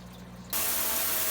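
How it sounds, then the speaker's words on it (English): A shower head bursts into a loud, broad hiss of spraying water after a quieter moment, rinsing gunk from a hang-on-back aquarium filter, close and steady with no talk. "this shower has a spray option"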